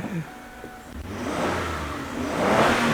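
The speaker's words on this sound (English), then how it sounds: "Oh, it starts right up, like I never took anything apart." A Kia Sorento engine with a misfire history fires up and runs, the idle rising into a steady, moderately loud rev with no talking.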